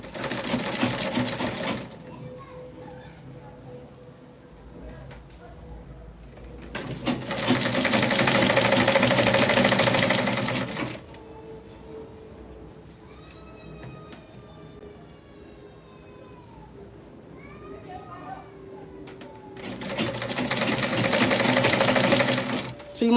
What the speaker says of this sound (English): So I'm just going to stitch this now. With a straight stitch,